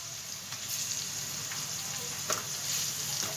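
Corn kernels fry in a pan with an even, rain-like hiss and a scatter of faint pops and crackles, quiet and close, with no talk.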